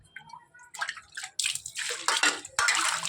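Water is poured in uneven bursts over fish being washed, splashing and sloshing loudly in close, irregular gushes with short pauses between pours.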